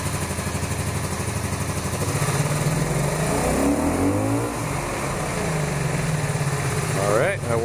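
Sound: cafe racer motorcycle engine revving with throttle

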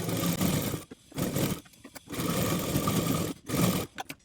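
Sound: sewing machine stitching a blouse sleeve

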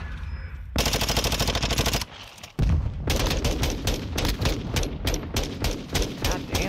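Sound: gunshots in a first-person shooter video game

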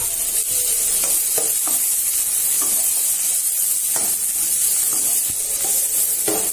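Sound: green chilies and onion frying in hot oil

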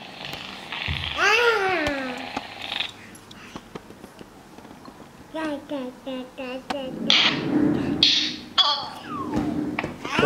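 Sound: cat meowing

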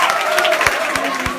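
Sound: audience applause

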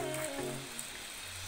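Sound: rain falling

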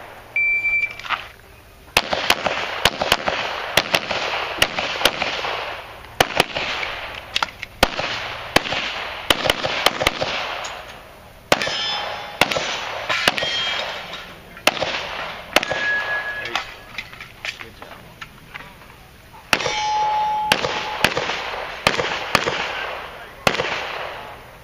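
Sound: gunshots hitting a steel popper target

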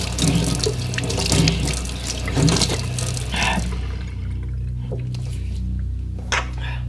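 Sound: tap water splashed on the face

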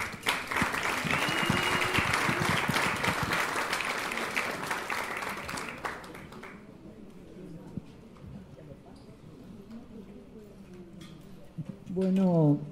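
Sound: audience applause

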